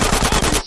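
Dense automatic gunfire from a gunfight in GTA San Andreas, loud rapid bursts of machine-gun shots packed together, cutting off abruptly near the end.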